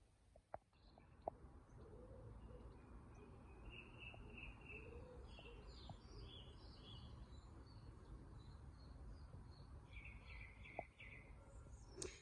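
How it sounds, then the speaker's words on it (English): Birds chirp and trill faintly in the distance over a steady outdoor hiss, with a few light clicks nearby. "Hopefully you can hear the birds."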